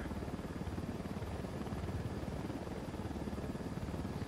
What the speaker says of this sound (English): I'm in the chopper already, ready to take off at any time.